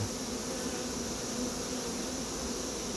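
A swarm of honeybees descends into a hive box, giving a steady, dense buzzing drone that holds at an even level for about three seconds without any voices.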